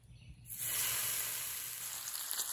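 Drops of water hit a hot pan on a homemade camping backpacking stove and burst into a loud, close, sustained sizzle that starts abruptly and hisses steadily to the end, with no talking.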